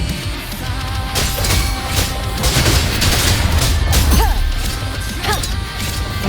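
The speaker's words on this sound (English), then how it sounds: "Another mortar thrown at us." Mortar fire in the video game Wuthering Waves gives repeated loud booms and crashes with rapid impacts, layered over dense music and battle effects throughout.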